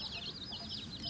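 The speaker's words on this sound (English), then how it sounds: "Rooster." Chickens and a rooster on a rural mountain farm in Thailand, with steady soft clucking and chatter throughout, close by and continuous, with no speech.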